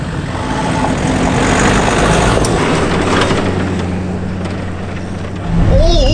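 Rally car in Thailand rumbling along a rough course, a steady loud engine drone with broadband road and body noise throughout, swelling slightly near the end.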